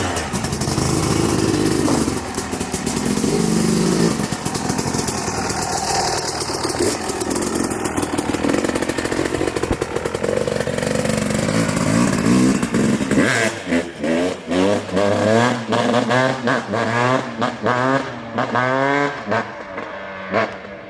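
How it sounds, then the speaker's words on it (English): A two-stroke engine, probably a motorcycle, runs loud and close with a raspy drone, then revs repeatedly in sharp bursts near the end. "Two-strokes sound pretty cool."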